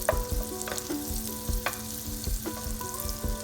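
Butter sizzles gently in a pan over low heat while being stirred, with a soft continuous fizz broken by several sharp scraping strokes of the spoon against the pan.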